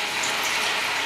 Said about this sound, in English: fill it up with warm water